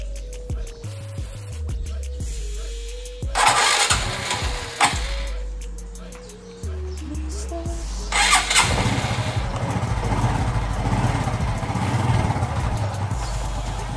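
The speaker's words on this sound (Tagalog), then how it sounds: "start ulit natin yung motor" A Honda XRM125 motorcycle engine cranks and catches, stopping and restarting a few times with loud bursts of revving before settling into a steady close-up idle.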